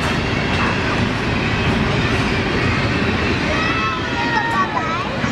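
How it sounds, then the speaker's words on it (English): A train rumbles past up close, steady and loud with rhythmic clatter and a faint high metallic squeal near the end. "Champ, they got a train!"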